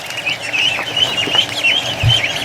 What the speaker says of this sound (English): There's a Dalmatian duck.